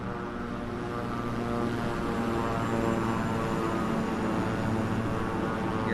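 Steady, loud drone of a Beechcraft King Air turboprop in flight in Microsoft Flight Simulator 2020, a continuous engine and propeller hum holding level throughout with no talk.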